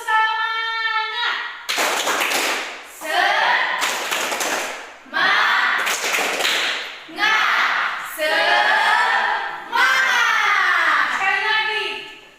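Schoolchildren in an Indonesian classroom perform a rhythmic spirit clap, loud bursts of clapping and chanting voices in repeated phrases with short pauses between them.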